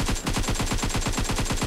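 Steady, evenly spaced automatic bursts from an AKM rifle in PUBG Mobile, loud and close, a continuous rhythmic stream of shots with no talking.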